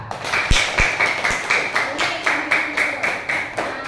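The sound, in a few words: students clapping for a group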